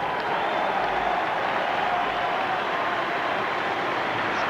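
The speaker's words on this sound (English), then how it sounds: "A special cheer." Football crowd at a Liverpool versus Charlton Athletic FA Cup fifth round match, a broad, sustained roar of cheering and applause from a large stadium audience, steady and loud throughout.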